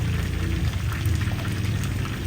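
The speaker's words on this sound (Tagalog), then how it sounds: "At ito pala nagpiprito si Eric dito" Food frying in hot oil at a home birthday gathering, a dense continuous sizzle and crackle heard close and steady with no talking over it.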